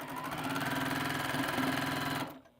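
A sewing machine stitching quilt fabric pieces together, running in a steady, fast mechanical whir with a rhythmic needle pulse, loud and close, then stopping abruptly near the end.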